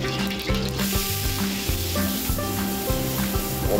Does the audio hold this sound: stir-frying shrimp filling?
yes